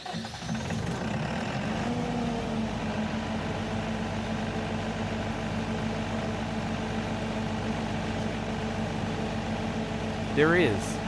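A generator engine with an engine speed sensor problem runs at a steady idle with a low, droning hum throughout, close by, with a brief squeal near the end.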